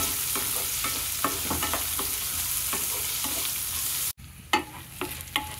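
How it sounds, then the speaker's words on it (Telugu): Onions frying in a pan for semiya upma, a steady broadband sizzle with repeated scraping stir strokes throughout, briefly cut near the end before clattering stirs resume; no talk. "ఉల్లిపాయ కూడా వేసేసుకుంటున్నానండి. ఇవి బాగా వేగాలి."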